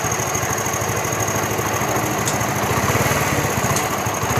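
A Honda CD70 motorcycle engine idles steadily after a petrol mixture adjustment, a close, continuous, even putter with a faint high whine above it and no talking.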